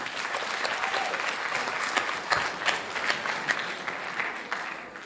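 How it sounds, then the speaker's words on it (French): At an award ceremony for a book and reading competition, the audience applauds a quiz contestant with a sustained, dense wash of clapping that holds steady throughout, with a few louder claps. "merci de faire également un tonnerre d'applaudissements pour notre prochain candidat"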